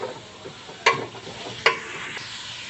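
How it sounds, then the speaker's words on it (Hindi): Chopped vegetables fry in a pan for egg or chicken fried rice, a soft steady sizzle close by, broken by two sharp clinks of a utensil against the pan. "सारी वेजिटेबल्स को भी मैं इसके अंदर फ्राई कर रही हूँ।"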